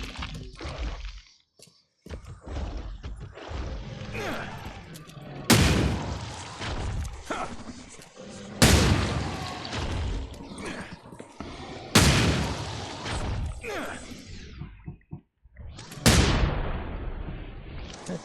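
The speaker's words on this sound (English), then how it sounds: "Use the hand grenades." Hand grenade explosions in the horror game The Sinking City, with four loud, sharp blasts spaced a few seconds apart, each fading into a rumbling tail amid scattered other combat noises.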